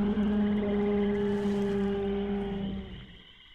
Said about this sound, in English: It's the noise the deer makes.